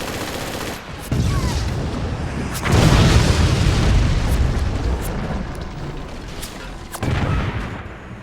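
Heavy weapon fire from the Forts video game, including machine guns, comes as booming, rumbling bursts and impacts. Loud blasts surge around three seconds and again near seven seconds, over a dense continuous din.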